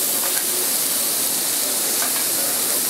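Butter sizzles loudly and steadily in a hot pan with asparagus and broccolini, a continuous close-up frying hiss with no talking over it.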